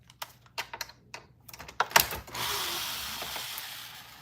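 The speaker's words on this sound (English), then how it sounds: "Let's take these three screws out." Screws coming out of a vacuum cleaner during repair: a run of quick ratcheting clicks from a screwdriver, close and fairly quiet, ending in a sustained hiss of steady noise.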